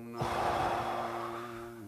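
A single long, deep breath, drawn in and slowly let out, close and soft, with a low steady hum underneath and no talking.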